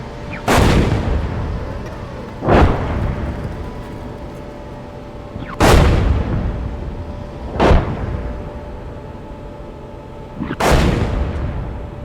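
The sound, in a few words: enemy artillery fire in video game GHPC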